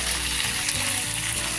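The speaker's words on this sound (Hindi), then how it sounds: "हमने इसे फास्ट फ्लेम पर ही फ्राई करना है" Chicken pieces for Afghani chicken gravy frying in a pan over a high flame, a loud, close, continuous sizzle that holds steady with no talking.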